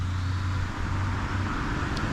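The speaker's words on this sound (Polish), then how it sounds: "Samochód jedzie?" A car drives past on a nearby road beside a country garden plot, a steady close rumble of engine and tyres lasting the whole short moment with no talking.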